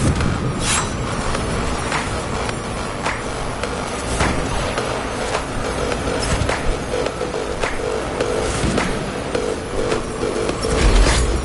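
An Intratube train in the video game Ghostrunner pulls into a station with a continuous rolling rumble of wheels on rails, punctuated by regular metallic clicks and clacks.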